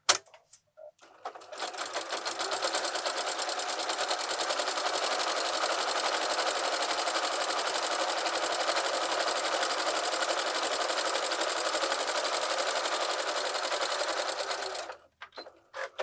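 A sewing machine stitches quilted place mats in one long, steady run of rapid needle clatter that starts and stops abruptly, loud and close, with no talk.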